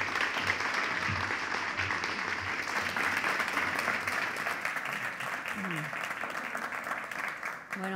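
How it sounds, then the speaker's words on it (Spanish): An audience at a cultural center in Madrid applauds a speaker being introduced, sustained and even crowd clapping filling the room for several seconds before it tapers off. "Un aplauso, por favor."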